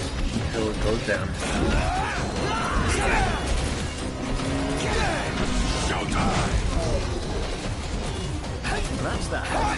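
Combat in Final Fantasy XV with repeated heavy smashing hits on an enemy, dense clanks and crashes layered over game music and effects, with voices talking throughout.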